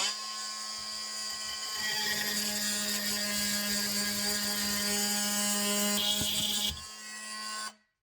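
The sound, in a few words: Dremel MM20V oscillating tool with universal blade cutting hickory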